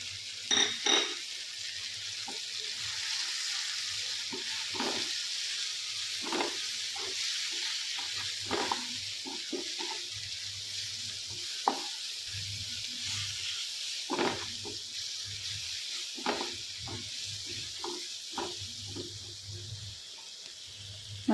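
Masala spice mix for a jackfruit seed curry fries in a pan with a continuous sizzle, broken by repeated scraping stirs at an irregular rhythm, close and without talk.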